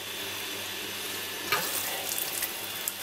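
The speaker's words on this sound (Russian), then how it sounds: "вот этот сейчас краник перекроем, и сюда побежит вода в ведро." A small, low-power well pump pushes water through a tap into a bucket, giving a steady hiss of flow that turns into a louder gush and splashing midway, close by and with no talk.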